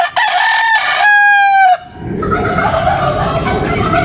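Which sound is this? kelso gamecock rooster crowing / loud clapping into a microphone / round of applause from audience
kelso gamecock rooster crowing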